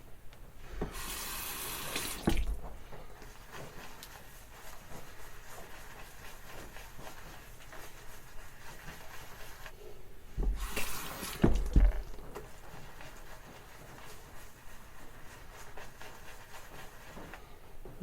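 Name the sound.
water running from tap while adding water to shaving soap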